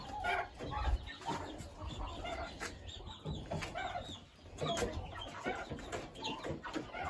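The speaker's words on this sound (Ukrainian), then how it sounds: "А тут у нас індики. Курчата, індики." Turkeys and chicks on a poultry farm chirp and cluck steadily in a dense, faint mix of overlapping bird calls with shuffling noise underneath.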